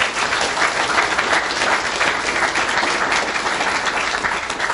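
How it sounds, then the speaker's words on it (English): An audience at a main event breaks into dense, steady applause that fills the room at an even level for several seconds. "I just want to give them a round of applause for sharing"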